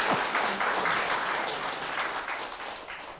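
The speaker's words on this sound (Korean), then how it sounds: "맞는 말 같으면 박수 한번 쳐봐요." A lecture audience claps in unison for a moment, steady dense applause at moderate level that fades slightly toward the end.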